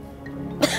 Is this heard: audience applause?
no